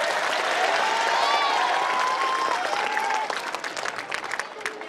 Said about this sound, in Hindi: एक बार जोरदार तालियां बजाएं।